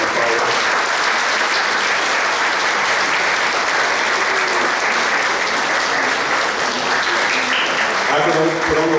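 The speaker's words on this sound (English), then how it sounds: "give them an applause as they come forward" Sustained applause at a book fair closing ceremony, a thick, unbroken roar of many hands clapping at high volume, with a few voices surfacing faintly near the end.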